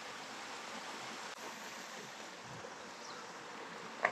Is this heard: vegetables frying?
no